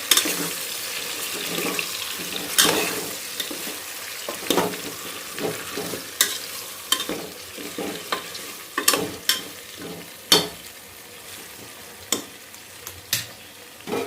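A spoon stirs stuffed brinjal curry as it fries in a pan, making repeated close scraping and clacking strokes over a soft sizzle, with no talking.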